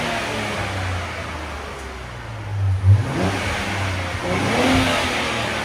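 A stock 2023 Nissan 400Z with a 3.0 twin-turbo engine revs up close, a steady rough engine roar rising and falling in pitch with a brief louder surge midway, no talking.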